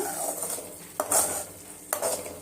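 Gojju paste being stirred and fried in oil in a metal pan, a soft sizzle running underneath, with two sharp spoon scrapes against the pan about a second apart.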